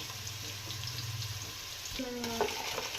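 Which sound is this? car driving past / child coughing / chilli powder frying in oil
chilli powder frying in oil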